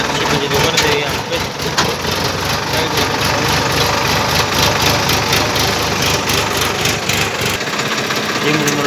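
A JCB backhoe loader engine running, a loud, steady, low diesel rumble with rattling vibration throughout, close by, with people talking over it.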